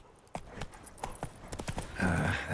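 Roach, a horse in The Witcher 3, galloping with a rapid run of loud, close hoofbeats, followed by a brief whinny-like tone at the end.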